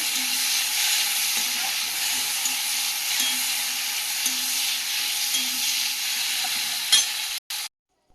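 Long beans fry in hot oil with a steady, dense sizzle that runs unbroken for about seven seconds, with faint stirring scrapes beneath it, before the sound cuts off abruptly.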